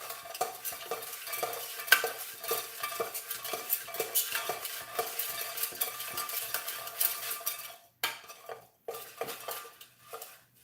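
Paper pieces being stirred around in a container by hand: a continuous, busy rustling and shuffling with crisp rattles, dropping out briefly near the end before resuming.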